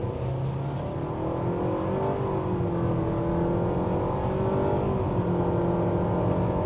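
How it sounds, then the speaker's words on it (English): A 2025 Mitsubishi Outlander SEL Premium SUV with a CVT accelerates on the gas, its engine drone holding steady while a rising whine climbs smoothly over tire and road noise, heard from inside the cabin without talk. "We can take a step out here, open her up a little bit more on the gas."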